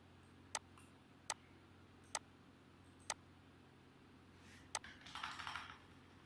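Someone types a chart title on a computer keyboard: five faint, evenly spaced keystrokes against a quiet room hum, followed by a brief soft rustle.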